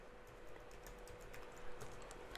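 A username being typed on a computer keyboard at a login screen: a quick, steady run of light key clicks, faint and continuous with no talking.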